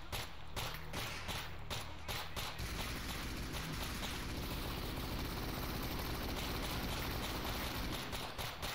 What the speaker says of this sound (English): That helicopter over there is gonna make its way over here